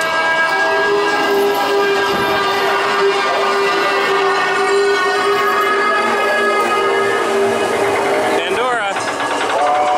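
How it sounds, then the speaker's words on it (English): A steady rumble of a train rolling on rails with a constant droning tone, while a person speaks over it. "This is the quietest train I think I've ever been on."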